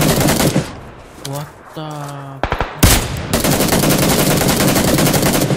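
Rapid automatic gunfire from the PUBG Lite battle royale game on PC, sustained loud bursts with a brief gap and sharp shots, while a player speaks briefly over it.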